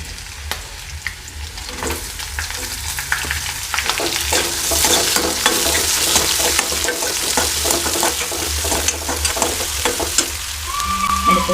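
Chopped ginger and onion frying in hot oil, giving a loud, close, continuous sizzle with frequent crackles and occasional stirring scrapes, steady throughout with no voices.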